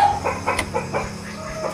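A hen clucks in a quick series of short, close calls over low background noise.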